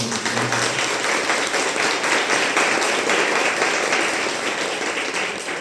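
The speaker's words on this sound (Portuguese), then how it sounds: "Uma calorosa salva de palmas." Warm, sustained applause from a parish congress audience celebrating the parish's tenth anniversary, a thick, continuous roar of many hands at steady volume.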